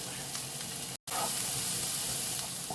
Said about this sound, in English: Add some butter to the pot.